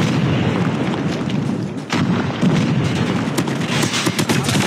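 Grenade blasts and gunfire in the Call of Duty: Mobile multiplayer video game, a dense run of booms and sharp shots over a continuous roar with no talk.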